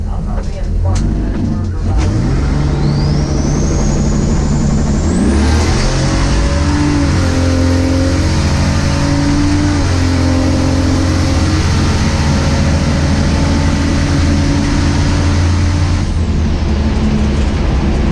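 Turbocharged six-cylinder car in a drag race, a loud engine winding up hard with rising pitch and turbo whine through gear changes, sustained and close.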